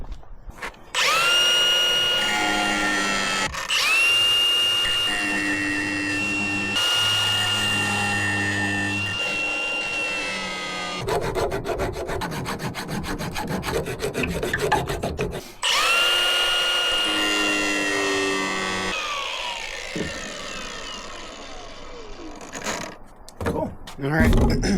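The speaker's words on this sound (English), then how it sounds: "Let's grind down this tab again" Angle grinder grinding down a metal tab on a Ford F150 Tremor suspension part, in long loud sustained whining passes with brief pauses between them, ending with clanks and handling noise.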